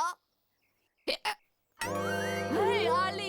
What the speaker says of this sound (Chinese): 你在打嗝吗？